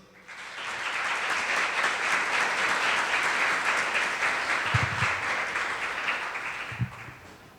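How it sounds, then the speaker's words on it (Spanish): An audience at a leadership and innovation conference applauds to welcome a speaker, clapping swelling quickly into a steady, full roar that holds for several seconds, then thins out with a couple of thumps near the end. "a quien recibimos con nuestro reconocimiento y aplauso al señor Walter Jeremías López Flores."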